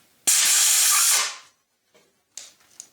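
A single strong burst of compressed air blasts into a threaded hole on a Mercedes 560SL engine to clear out oil, a loud steady hiss of about a second that tapers off, followed by faint handling clicks.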